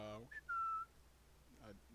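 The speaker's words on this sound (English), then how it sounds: "You can't whistle, can you?" A person gives a short whistle, one brief rising note and then a longer steady tone lasting about a third of a second, close and clear, with voices talking just before and after.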